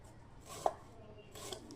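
A knife chops vegetables such as radish on a board, with two short bursts of cutting and a sharp tap between them, close and fairly quiet.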